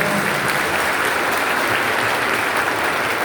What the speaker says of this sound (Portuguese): Uma salva de palmas para os nossos coroinhas.